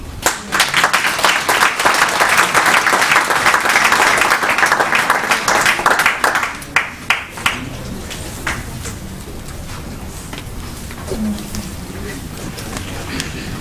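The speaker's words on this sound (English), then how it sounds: "I think we need to give Ralisa another hearty round of applause" Audience applause at a disabilities conference opening ceremony, a loud, dense round of clapping that runs for about six seconds, then breaks into a few scattered claps and fades to quiet room tone.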